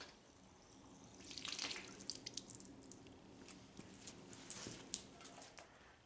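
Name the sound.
water filling a Packard engine block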